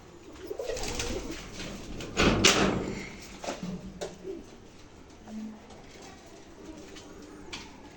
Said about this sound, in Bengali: এখন দেখায় আমাদের আরেকটা ব্রিডিং সেট আপের কবুতরগুলো